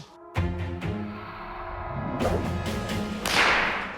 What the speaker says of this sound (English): we're gonna try and prove that the end of the whip breaks the speed of sound